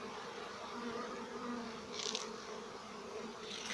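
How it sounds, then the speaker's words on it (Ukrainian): Honeybees at an apiary in autumn, where frames are set out to dry, buzz in a steady continuous drone, with a few louder passes of individual bees close by. "А це прямо на пасіці, дивіться."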